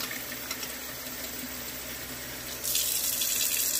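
Shower tap water runs in a steady, close hiss throughout, growing a bit louder and brighter near the end as the flow increases.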